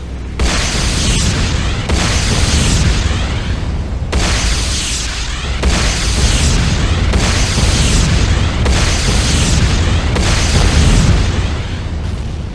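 Repeated heavy booming explosions roll through as a GDI weapons factory is blown apart in Command & Conquer Renegade, loud, dense blasts layered continuously over about twelve seconds with no pauses.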